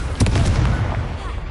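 A Confringo blasting spell explodes in the Hogwarts Legacy video game, a loud booming burst with a rumbling tail, heard alone.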